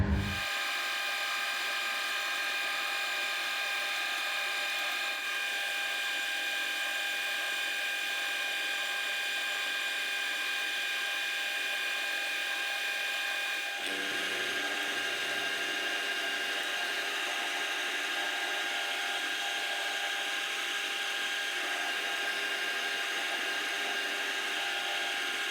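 A 6mm hole being drilled in metal for tapping, a steady mechanical whine with grinding and ratcheting texture that carries on without a break, shifting slightly in tone partway through.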